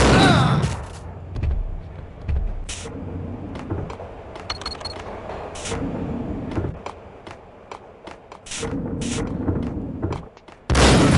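Gunfire in the video game Max Payne, several sharp broadband bursts scattered through the scene at moderate loudness, with loud blasts near the start and end over a murky game ambience.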